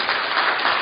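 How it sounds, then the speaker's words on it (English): Church congregation applauding to welcome a visitor during a Sunday worship service: a brief, dense burst of clapping from many hands at steady loudness, with no voices over it. "we want to welcome you with a round of applause"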